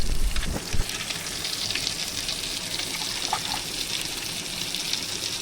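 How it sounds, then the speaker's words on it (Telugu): Minced chicken keema fries with browned onions in a pan, giving a steady, close, bright sizzling hiss throughout, with a brief clatter near the start and no voices. "ఇప్పుడు చూడండి చికెన్ కీమా మొత్తం అందులో వేసేసుకుంటున్నాము"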